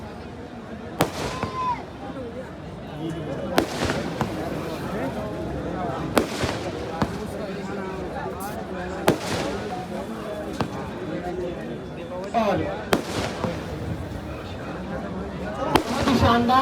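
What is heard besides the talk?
fireworks display at the Dewa mela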